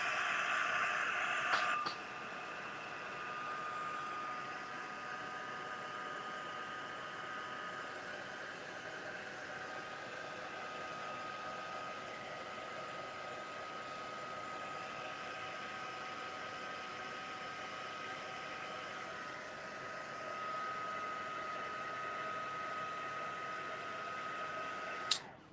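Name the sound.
hair dryer drying a wet cloth nappy craft piece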